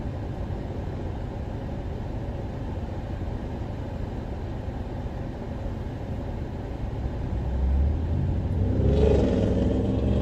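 A loud black car driving past on a rural road, a steady engine rumble that swells and grows louder near the end as it passes close by.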